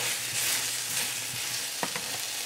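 Taro root (arbi) stir-frying in a pan for an Indian sabji hisses in a dense continuous sizzle close by, with a couple of scraping stirs near the end and no talking.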